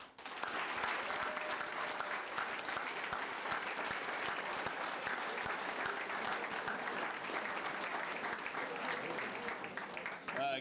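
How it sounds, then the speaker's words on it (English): A crowd at a high school fall sports banquet applauds steadily for about ten seconds, the clapping full and sustained from start to finish. "join me in a round of applause"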